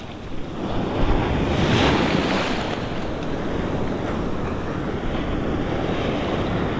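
Gulf surf breaking over a shallow sandbar in about a foot of water, a loud, continuous wash and roar of waves, swelling briefly near the start and then hissing steadily, close by, with wind buffeting the microphone.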